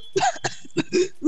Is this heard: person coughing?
yes